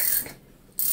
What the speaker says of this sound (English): Check your wrench.